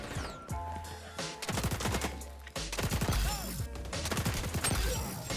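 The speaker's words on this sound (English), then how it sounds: "I'm gonna try that rapid fire barrel out on the AK." Bursts of rapid automatic fire from an AK fitted with a rapid fire barrel in the Warzone video game, loud and close, repeated in several dense volleys with brief gaps between them and no talk.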